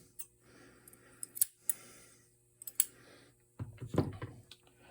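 Sharp scissors snip through sewing thread held with a needle: two quick clean snips in the first half, another near three seconds, then a louder rustling scrape of handling, close and quiet with no talk.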